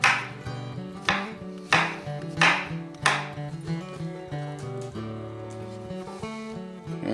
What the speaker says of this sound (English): Same thing with our mushrooms. Nothing crazy. Very rustic, quick chops.